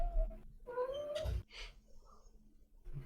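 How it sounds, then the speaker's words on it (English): A cat gives a clear, close caterwauling meow with rising and falling pitch, followed by a short rustle and quieter sounds. "That was a super cute meow"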